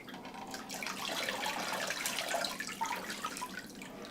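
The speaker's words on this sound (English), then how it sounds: "Now take your jar with the fresh water and rinse your feet." Water pours and splashes steadily and softly for a few seconds, with no voices.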